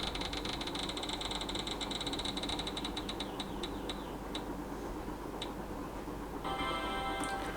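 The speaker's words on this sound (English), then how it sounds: "let's do spin number 1. This is my own prompt wheel that I have made" A homemade prompt wheel spins with a rapid run of ticking clicks that gradually slows and spaces out into a few final clicks before stopping, heard faintly over steady background hiss.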